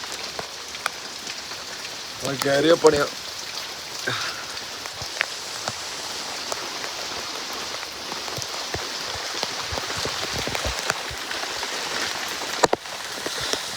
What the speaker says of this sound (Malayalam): ഇങ്ങനെ മഴ പെയ്തുകൊണ്ടിരിക്കുന്നുണ്ട്